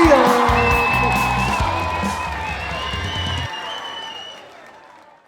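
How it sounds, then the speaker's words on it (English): An audience claps and cheers for a third grade wax museum school event, starting loud and fading out, with whoops and voices mixed into the crowd noise. "give a warm round of applause for the third grade Wax Museum"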